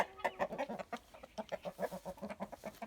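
Rapid, repeated clucking and squawking from several roosters at night, close by, with agitated bursts forming a steady, jittery rhythm throughout.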